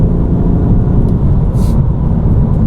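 A BMW M2 Competition with an S55 engine pulls on part throttle near 3000 rpm. Its deep, steady drone sits loud and close inside the cabin throughout, with no voices over it.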